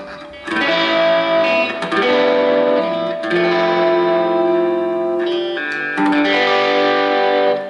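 An electric guitar played through a Little Lanilei 1/4 watt amp with reverb rings out in sustained, chord-like notes with long decays, the strums repeating every couple of seconds, loud and alone.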